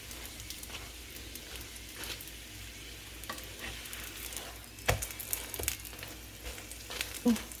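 A paneer paratha cooks on a hot pan over medium-high heat, a soft steady sizzle with occasional sharper crackles and a few louder bursts near the end, heard close with no talking.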